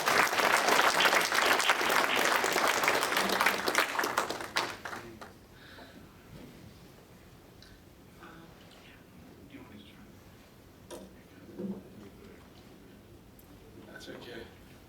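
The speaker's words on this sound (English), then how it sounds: "So let's give him a big round of applause." An audience applauds a guest speaker at an evening entrepreneurship talk. The clapping is loud and steady for about five seconds, then dies away into quiet room noise with a few faint stray sounds.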